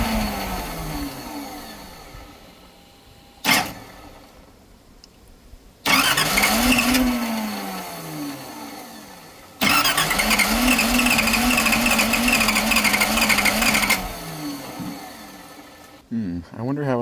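A 1978 Datsun 280Z cranks and catches in short bursts, then settles into a rough, steady idle; a voice is heard between attempts.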